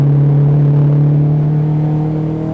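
Race car engine on a track, a steady loud droning hum with a strong low tone, held at near-constant revs, close.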